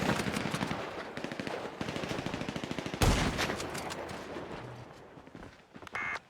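Rapid automatic gunfire in a shooting video game, fast steady bursts of close loud shots, then a heavy blast and fading rumble with scattered game effects after.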